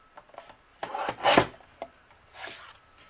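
A sheet of rainforest cardstock is trimmed to size, giving a few soft, close scraping and slicing rubs with one stronger rasping stroke in the middle, quiet and with no voices.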